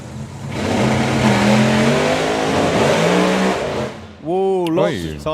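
A drag racing car at a Santa Pod Raceway FIA European Finals eliminations meet roars loudly as it launches down the strip, then the engine revs climb sharply near the end, with a commentator talking over it.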